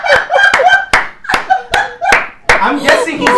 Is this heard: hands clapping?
yes